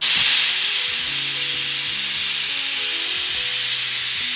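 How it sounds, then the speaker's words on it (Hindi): Loud steady hiss of steam escaping from a pot or pressure cooker of mutton gravy, with faint clinks and tones of cookware underneath and no talk. "भाप आ रहा है, भाप भाप भाप"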